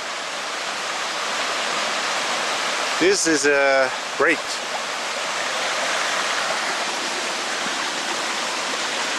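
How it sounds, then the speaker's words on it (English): A small waterfall in a Rhine-area forest rushes in a steady, loud broadband roar throughout, with a brief spoken remark over the water partway through. "basically just one small waterfall"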